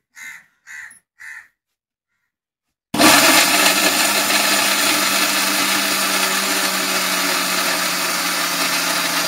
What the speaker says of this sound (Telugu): చట్నీ అయితే మిక్సీకి వేసుకొస్తారండి మరి